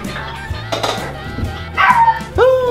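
A dog yips and barks a few times in a garage where a Harley-Davidson Shovelhead motorcycle is being taken apart, the short high calls rising over a low hum, with people talking nearby.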